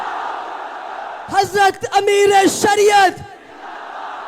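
A rally crowd at Gandhi Maidan in Patna bursts into loud unison slogan shouting after a lone voice calls out over a loudspeaker, a few rhythmic chanted phrases that swell, then fade back into the hall's murmur.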